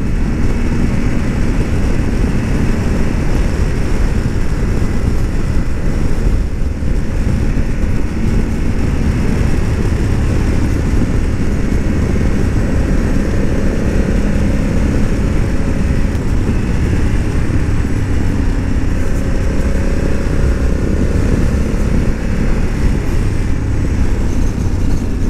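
A Honda Africa Twin 1100L motorcycle hums steadily while being ridden, and heavy wind rush almost buries the engine. The sound stays loud and constant throughout, with no talking.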